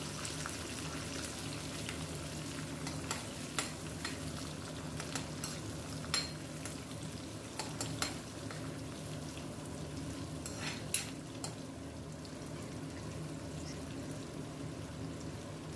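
Chopped onions and curry leaves frying in oil in a pan for wheat rava upma, a steady quiet sizzle with occasional soft clicks and stirring taps throughout.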